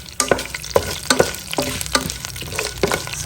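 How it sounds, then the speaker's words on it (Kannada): Mustard seeds splutter in hot tempering oil with black gram dal and curry leaves, a steady sizzle broken by repeated sharp pops and crackles at an uneven rhythm, close and fairly loud with no talking. "ಸಾಸಿವೆ ಚಟಪಟ ಅಂತ ಸಿಡಿಯೋವರೆಗೆ ನಾವು ಇದನ್ನು ರೀತಿ ಹುರ್ಕೊಳ್ಳೋಣ."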